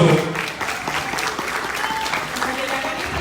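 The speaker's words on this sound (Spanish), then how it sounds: "Bravo, un aplauso." Dense, steady applause from an audience at a talk on communication and media, loud and sustained throughout with faint voices mixed in.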